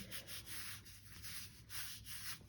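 An embossed paper piece for a Christmas card is pressed and rubbed down by hand, making soft, rhythmic back-and-forth scraping strokes, close and quiet, with no talk.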